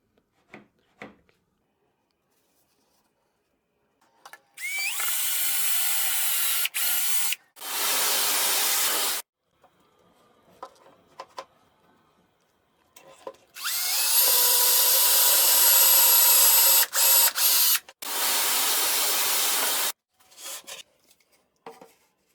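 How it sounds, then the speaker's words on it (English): Power drill boring holes into the side of a wooden bookshelf with a doweling jig, in several loud bursts of a few seconds each separated by quiet pauses and light handling clicks. "drill the corresponding holes in this side of the bookshelf"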